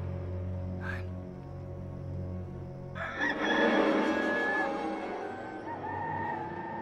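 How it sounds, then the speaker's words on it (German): A rooster crows once, loud and drawn out in the middle after a brief sound, over a steady low background hum, with a voice faintly present beneath. "Und in diesem Augenblick krähte ein Hahn."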